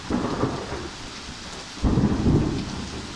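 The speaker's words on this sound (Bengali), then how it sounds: "এটা একটা বৃষ্টি। এরকম বৃষ্টি কখনো আমি দেখিনি" Heavy rain pours outdoors in the USA near a church, a dense roaring wash with deep rumbles of thunder rolling in twice, loud and unbroken, with no talk.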